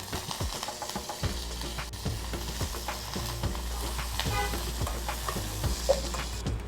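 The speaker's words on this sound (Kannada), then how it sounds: "ಒಂದು 1/2 ಟೀ ಸ್ಪೂನಷ್ಟು ಉದ್ದಿನಬೇಳೆ ಹಾಕಿ ಒಗ್ಗರಣೆ" Mustard seeds, urad dal and curry leaves sizzle in hot oil for a tempering, a close, steady frying crackle with repeated stirring scrapes of a spoon against the pan and no talking.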